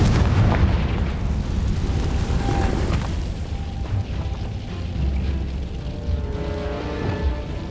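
Confringo explosive spell in the video game Hogwarts Legacy, a loud booming burst followed by a sustained rumbling roar with smaller pops and shimmering tones trailing off.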